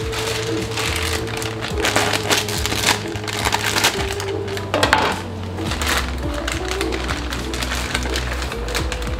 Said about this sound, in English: I like to actually put the broccoli in the glass.